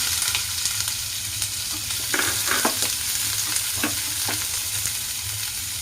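Onion sizzles with mustard seeds in hot coconut oil, a steady close frying hiss broken by the scrape and clink of stirring, with no talking.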